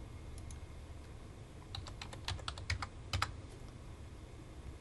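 Soft, quick keystrokes on a computer keyboard tap out a short burst of typing for input to a CAD drawing program, faint and close against a quiet background hum, with no talking.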